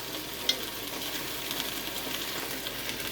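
Vegetables fry in a pan with a steady, moderate sizzle, crackling close by and alone, with a faint clink near the start.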